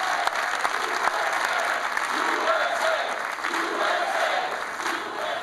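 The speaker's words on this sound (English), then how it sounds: "The announcement welcomed with open arms by a cheering crowd in Miami who were chanting USA." A crowd in Miami applauds and cheers at a presidential announcement about Cuba policy, steady massed clapping with scattered shouts heard from a distance, continuous and fairly loud.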